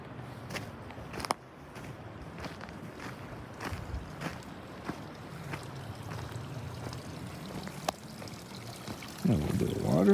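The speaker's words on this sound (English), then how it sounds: "A little bit of water." Water trickling and running along a mountain trail in the High Sierra, a steady close wash with occasional footsteps and a brief louder splash near the end.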